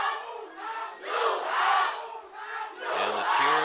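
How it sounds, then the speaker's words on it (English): A crowd in the stands at a high school football game between Westchester and Leuzinger chants and cheers in rhythmic, swelling waves, loud and sustained, with a brass band note joining near the end. "And the cheer goes."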